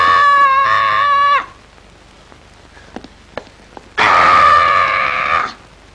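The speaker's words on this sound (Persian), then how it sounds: "چرا اینقدر جیغ میزنی زن؟" A woman in a 1975 Iranian film lets out two loud, sustained, high-pitched screams separated by a few seconds of near quiet broken by faint clicks.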